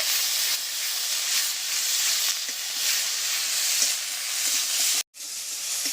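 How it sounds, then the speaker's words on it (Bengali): Ginger-garlic paste fries and is stirred in a pan for a winter vegetable khichuri, giving a steady, close, loud sizzle and hiss with scraping stirs, broken by a brief silent gap near the end. "এবারে দিয়ে দিচ্ছি আদা রসুন বাটা। আদা রসুন বাটাটা দিয়েও একটু নেড়ে চেড়ে নেব।"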